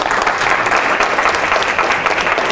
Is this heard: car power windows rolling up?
no